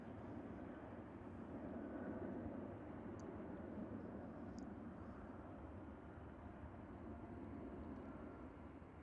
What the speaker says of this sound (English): the sound of the airplane taking off from center overpowering the volume that this A220 is producing when taking off